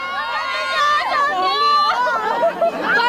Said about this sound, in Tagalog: Nang dumating si Marian, hindi na natigil sa hiyawan ng mga tao.